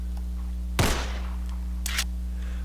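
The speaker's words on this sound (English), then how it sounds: "All the guns just kind of sound like war, so forget that." A video game gunshot sound effect fires once as a sharp, loud crack with a decaying tail, followed a second later by a shorter, fainter burst, both over a steady electronic hum.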